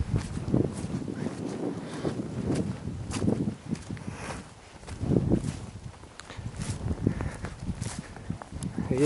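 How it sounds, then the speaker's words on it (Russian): Gusty wind buffeting the microphone in uneven surges, loud and close, with some scuffing movement underneath. "Ветер дует."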